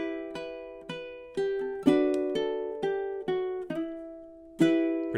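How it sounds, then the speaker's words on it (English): Ukulele strummed with a flick of the index finger across the strings, playing a stanza of The Wellerman: bright, evenly spaced strums with ringing chords, close and alone with no voices. "flick it over the strings across this portion of the ukulele"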